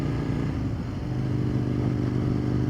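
An Aprilia motorcycle engine drones steadily while riding, a close, continuous low rumble with a faint dip and recovery in pitch partway through, and no talking.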